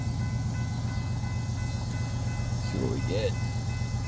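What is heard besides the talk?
train passing on single-track main line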